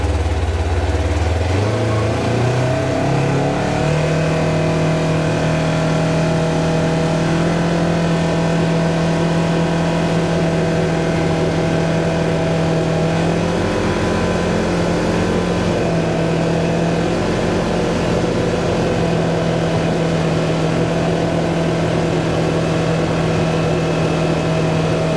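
A Polaris RZR Turbo side-by-side drives at a steady 30 mph, its engine rising briefly then droning continuously and loud with wind and road rumble, heard from inside the cab.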